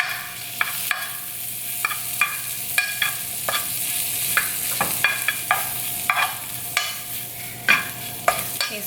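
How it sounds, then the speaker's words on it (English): Food heavily dusted with Cajun seasoning and garlic powder fries in a frying pan under a continuous bright sizzle, while a utensil scrapes and clacks against the pan in repeated close strokes. "so just stir that around because just way too much Cajun"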